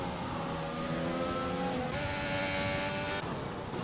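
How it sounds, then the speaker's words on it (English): Race cars in a racing video game on a Belgian circuit sweep past one after another, their engine tones rising and falling as they go by, a continuous layered whine and drone with no voices. "He's just letting cars pass now"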